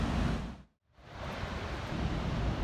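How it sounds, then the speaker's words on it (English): Waves crashing on a stormy stretch of the South West Coast Path near Crackington Haven, a loud, dense roar of surf and wind that briefly drops away to near silence before surging back, with no voices. "That's literally the waves crashing out there."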